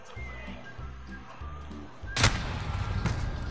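A single sharp sniper rifle shot in Call of Duty: Modern Warfare cracks out loud and close partway through, following a quieter stretch of game sounds and leaving a lingering wash of noise after it.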